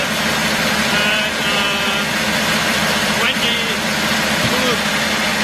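A 22-litre V12 fire truck engine idles at a Munich Airport fire station, a steady low rumble running continuously throughout while people talk nearby.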